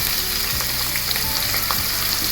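Onions and curry leaves fry in hot oil for a salmon fish head curry, a loud, steady sizzle with occasional stirring scrapes and no voices.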